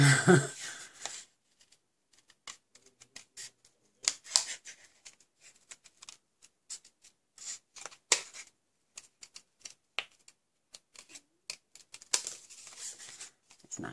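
Scissors snip around a stamped paper shell shape in short, irregular cuts, close and quiet, with pauses between bursts of rustling and clicking blades.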